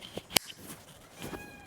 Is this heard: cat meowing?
yes